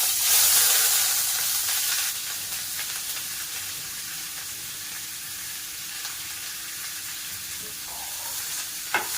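Tindora (ivy gourd) with long-sliced onion and curry leaves sizzles in hot oil while being stirred, a steady close frying hiss that fades slightly after the first seconds, ending with a small clink.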